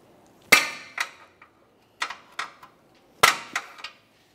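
Sharp metallic hammer strikes on a metal bellows boot clamp of a 2001-2005 Ford Explorer Sport Trac, a heavy blow followed by lighter taps, close and ringing briefly, with quiet pauses between groups.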